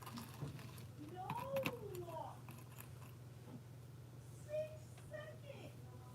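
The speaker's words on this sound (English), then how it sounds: "You can hear my kids, right?" A crocheter's children are heard faintly in the background, their high-pitched voices rising and falling in a couple of short bursts beneath a steady low hum.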